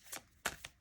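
Oracle cards are shuffled and drawn by hand in a few quick, soft riffling bursts, close and quiet, with no speech.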